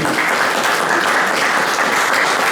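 Steady, dense applause from a crowd at a Haitian community gathering in France, loud and continuous throughout with no voices standing out.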